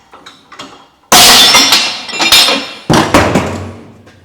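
A workshop press strains to force a brake disc off a car hub, and two loud, sharp cracking bangs ring out with metallic clinks and a rattling decay after each.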